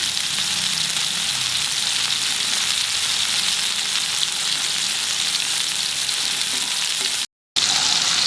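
Chicken cafreal fries in a pan over a medium flame, giving a steady, dense sizzle that stays loud and even throughout, broken only by a brief dropout near the end, with no talking.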